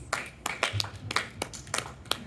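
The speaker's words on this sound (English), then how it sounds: "let's give Desiree a round of applause" A small audience claps for Desiree at an informal gathering, a light, sparse smattering of hand claps with distinct individual slaps spread across the moment, fairly quiet and without voices.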